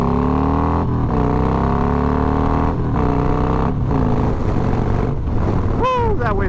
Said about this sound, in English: that wind is ridiculous